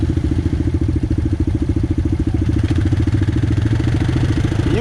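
An ATV engine labors in low gear on a trail, a loud, close, steady chugging with rapid regular firing pulses and a rattly mechanical clatter, running continuously with no voices.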